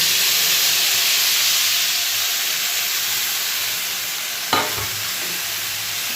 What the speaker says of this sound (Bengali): এবার এই যে রেডি করেছি মশলাটা এটা দিয়ে দেব